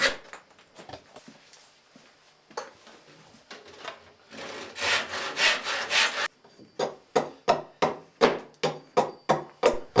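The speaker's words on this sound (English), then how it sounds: "Now the sills get trimmed." A hand saw trims the wooden sills of a traditional wooden lobster pot, with scattered light scraping strokes at first, then a dense burst of sawing and a run of quick, rhythmic, close strokes toward the end.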